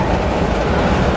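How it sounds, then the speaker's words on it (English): A train roars past in the horror video game Layers of Fear as it runs the player over, a loud, dense rushing rumble that stays steady and close for the whole moment. "Oh, you got run over by a train?"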